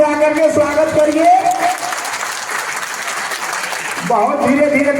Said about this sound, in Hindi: आप लोग ताली बजा करके स्वागत करिए।